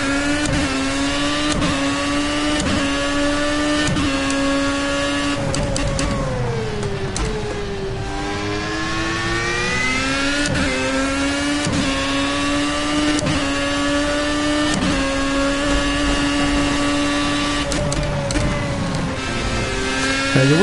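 Formula A race car in the Project CARS racing game, its engine droning steadily at high revs with pitch dipping and climbing through corners, punctuated by repeated sharp clunks from the drivetrain.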